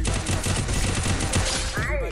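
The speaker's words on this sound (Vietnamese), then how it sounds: "Bắn 3 viên liên tục vào đầu ghê đấy" Rapid sniper headshots from the M500 in the mobile battle royale game Free Fire ring out as a string of sharp, loud shots in quick succession, with gameplay sounds around them and a brief whooshing effect at the end.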